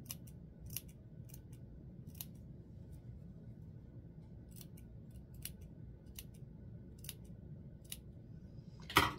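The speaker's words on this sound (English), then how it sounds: "I'm going to get in with my small embroidery scissors and I'm going to clip the curves up to the stitch line." Small embroidery scissors snip into the curved seam allowance of a formal dress, cutting up to the stitch line; close, crisp single and double snips at irregular intervals over a quiet background.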